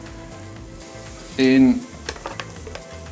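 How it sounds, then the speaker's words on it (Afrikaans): Lamb chops hitting a braai grill over very hot coals give a short, loud burst of sizzling, followed by faint crackles and clicks while a voice speaks briefly. "'n lamb choppies op die braai"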